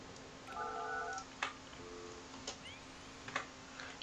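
A short, quiet telephone-style tone sequence sounds as a phone connection is added to a building in the Project Highrise construction sim, followed by a few soft clicks and ticks against a steady background hum.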